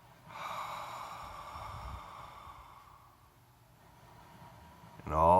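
A long, slow, breathy exhale during a breathing exercise, close and soft, fading into quiet before a brief sharper breath sound at the end.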